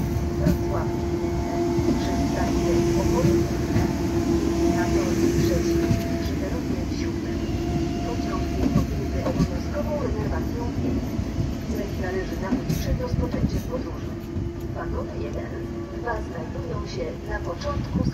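An Impuls 2 SKM electric train pulls into Warszawa Zachodnia station, a steady low rumble and rolling hum filling the platform with a tonal whine, while station announcements carry over the top.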